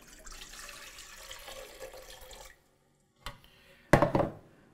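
Warm water poured into a mixing bowl for bread dough in a kitchen. A steady, faint splashing stream runs for a couple of seconds, then stops. After a pause come a few short, louder splashes and knocks.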